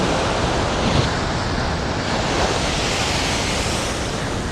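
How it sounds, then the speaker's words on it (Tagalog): Loud, continuous crash and roar of heavy Pacific surf close by at a beach in Casiguran, Aurora, Philippines, with wind buffeting the microphone throughout and no voices. "Ah! Grabe lakas ng alon."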